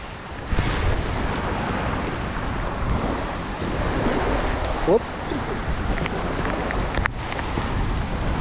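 Steady rain falling, a broad even hiss with some wind noise, close and constant throughout.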